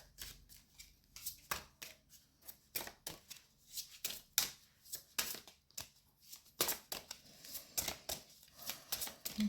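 Tarot cards slid and pulled from a deck during a card reading, a quick run of sharp papery flicks and shuffling snaps in irregular bursts, close and fairly quiet, with no voice.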